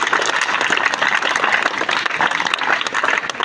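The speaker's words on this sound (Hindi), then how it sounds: "आप एक बार 3 क्लैप से इन्हें नवाजने का काम करें," A crowd of children and villagers at a school convocation and report-card ceremony claps steadily and loudly, a dense, continuous burst of applause close by.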